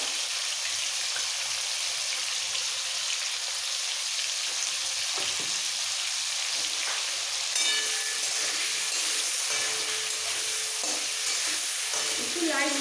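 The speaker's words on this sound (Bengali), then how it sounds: "ব্রাউন করে ফুলকপিগুলো ভেজে তুলে নিতে হবে" Cauliflower pieces fry with salt and turmeric in a pan until lightly browned, giving a steady, continuous sizzle with a few faint scrapes and clinks of stirring throughout, no voices.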